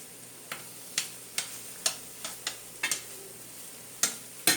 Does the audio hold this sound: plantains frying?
yes